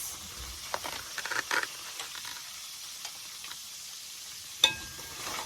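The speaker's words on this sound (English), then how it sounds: "Just gently fry this for about 2 minutes." Gbegiri bean soup gently frying in a pot, a soft steady sizzle with faint stirring scrapes and taps, one sharper clink near the end, no talking.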